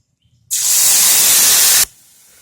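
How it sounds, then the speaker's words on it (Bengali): Onion, ginger and green chilli paste hits hot mustard oil spiced with cardamom and cinnamon for a paneer dish. A sudden loud, close sizzle holds for over a second, then drops to a faint simmering hiss. "এরপর দিচ্ছি পেঁয়াজ, আদা, কাঁচা লঙ্কা পেস্ট।"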